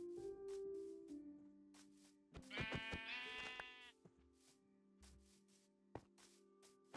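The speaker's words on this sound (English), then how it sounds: "Ah, sheep." Sheep in a video game let out a brief cluster of bleats amid steady background game sounds, the calls rising loud for about a second and then fading, with no talking.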